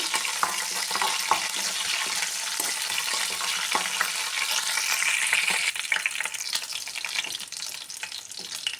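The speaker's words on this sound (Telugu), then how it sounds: "కరివేపాకు వేసి కొంచెం ఫ్రై చేసుకోవాలి మంచిగా గోల్డెన్ కలర్ వచ్చే వరకు ఫ్రై చేసుకోవాలండి" Curry leaves and garlic sizzle steadily in hot oil, a dense continuous frying hiss with occasional crackles and faint stirring clinks, close and loud throughout, for a brinjal fry.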